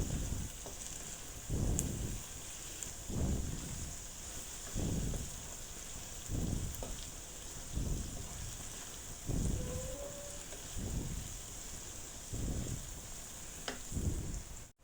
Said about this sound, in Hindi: अब इसको अच्छे तरीके से भूनते हैं हम, ताकि हमारा मसाला तैयार हो जाए अच्छे तरीके से।